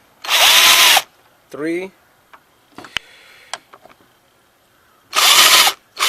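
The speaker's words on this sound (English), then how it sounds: "I have a socket of 8mm with a extension, and I'm using my drill master here" Two short bursts of a power drill whirring as it turns an 8mm socket on an extension, one at the start and one near the end, with a brief spoken word and small clicks between them, on a 2012 Ford Focus.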